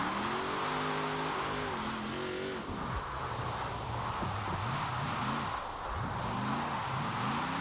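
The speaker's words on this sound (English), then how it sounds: "I started accelerating earlier to try and see if I can catch a little bit of grip." An all-wheel-drive GMC in the racing game Forza Horizon 4 roars as it accelerates through a drift, with a loud, continuous engine note rising and dipping repeatedly and no talk.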